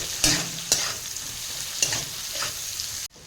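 Cabbage, beans and carrot frying in a wok, stirred with a few sharp scraping strokes over a steady low sizzle, close by, ending in an abrupt cut.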